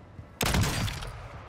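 A burst of MK2 rifle fire in a video game cracks out abruptly after a brief quiet start, a loud close shot ringing into a short tail.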